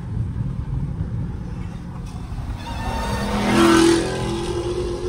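A muscle car engine, among Hellcats and Scat Packs in night traffic, drones loudly and steadily, then swells into a rising rev near the end. It sounds close up, with no voices.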